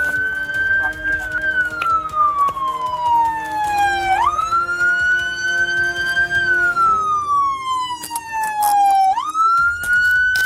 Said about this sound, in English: There was a reason the officer couldn't disable his car's siren